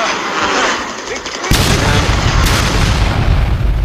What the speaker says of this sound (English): Bullets and explosions ripped behind us.